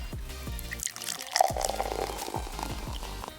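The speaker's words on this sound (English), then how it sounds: "The first step is to pour hot water in a plastic bottle." Hot water poured into a plastic bottle gives a gurgling, bubbling fill with a run of small drip-like plops, close and moderately loud over a few seconds.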